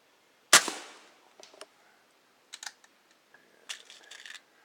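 A 2240 carbine air gun fires a pellet at a pop can: one sharp, loud crack, then a few light ticks and clicks from the target spaced over the next few seconds, with no talking.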